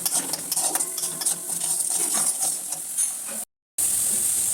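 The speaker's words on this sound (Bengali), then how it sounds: "এবার খানিক্ষণ নাড়তে থাকবো" A spoon stirs turmeric and salt in a hot wok with continuous scraping and light sizzling and brief clinks, cut off by a short silent gap near the end, and no talk.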